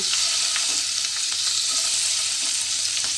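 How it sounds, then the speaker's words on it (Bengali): Tangra fish frying in hot oil in a pan: a loud, steady hiss and sizzle that fills the whole stretch, with faint bubbling and spatter crackles throughout. "সব কটা ট্যাংরা মাছ কিন্তু এইভাবে একে একে আমি এতে দিয়ে দিচ্ছি।"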